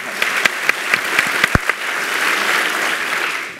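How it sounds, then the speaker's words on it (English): A few sharp, separate claps open a round of audience applause at Stanford's Daniel Pearl Memorial Lecture, quickly swelling into a steady, full crowd clapping that holds to the end, with no talking. "So one more round of applause."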